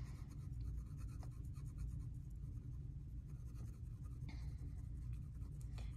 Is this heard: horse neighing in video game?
no